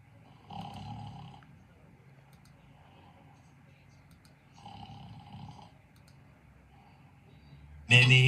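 Anime girl Kyoko snores in long, rasping breaths, two loud drawn-out snores separated by quieter breathing, followed by a sudden sharp burst at the end.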